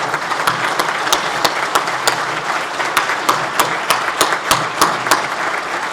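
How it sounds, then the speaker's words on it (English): A crowd applauds steadily at a fire and rescue awards ceremony, a dense wash of many hands clapping with a few louder individual claps standing out, sustained throughout. "Let's give a round of applause."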